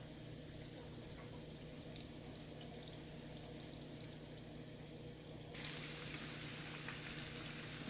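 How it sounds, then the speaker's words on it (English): Cheese balls fry in a pot of hot oil, giving a faint, steady bubbling sizzle that grows slightly louder and brighter near the end. "I'm gonna fry this in 2 batches"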